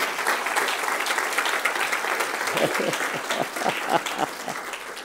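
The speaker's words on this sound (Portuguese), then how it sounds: "dê um aplauso forte para o Senhor Jesus" A church congregation applauding for Jesus during a Portuguese-language sermon, a sustained round of clapping from a crowded room with individual claps standing out near the end and a faint murmur of voices underneath.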